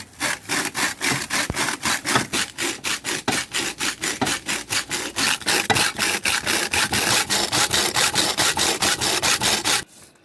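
A steel bar crushes gold quartz ore inside a plastic bag, making loud, close, steady pounding strokes at roughly two to three per second that continue without pause and stop abruptly at the end.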